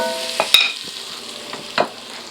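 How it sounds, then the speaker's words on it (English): Onions cooking in a pot for chicken corn chowder, with soft steady sizzle and a few sharp stirring clacks and scrapes, close up and moderately quiet with no talk. "Put our onion in. Let that cook up a little bit."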